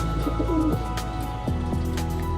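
White flight pigeons coo in a breeding loft among young birds, a steady run of soft, low, throaty calls close by with no talking.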